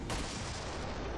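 A single loud gunshot in XCOM 2 cracks out sharply, then a dense, rumbling tail fills the brief moment afterward.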